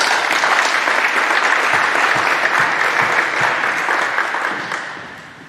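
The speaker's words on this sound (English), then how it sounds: "please give them a round of applause." Audience applause fills an awards assembly, a dense, steady wash of many hands clapping close and loud for about five seconds before thinning and fading out at the end.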